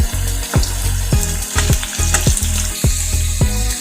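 Potatoes fry in oil before going into a duck curry, a loud close sizzle with regular clacking stirs of a spatula repeating about every half second over a low steady hum.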